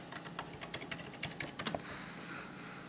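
Someone types a short terminal command on an Ubuntu computer keyboard, a quick irregular run of close, crisp key clicks, then a brief pause and a few final taps, with no talk.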